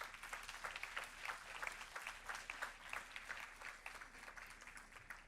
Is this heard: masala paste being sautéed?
no